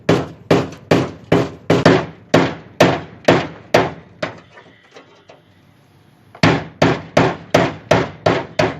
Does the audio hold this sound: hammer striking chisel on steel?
yes